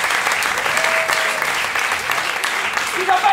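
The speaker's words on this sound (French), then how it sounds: "on peut l'applaudir" Audience applause at an improvisation theatre festival in Paris, steady dense clapping from a crowd that fills the whole short stretch, with a voice briefly rising over it near the end.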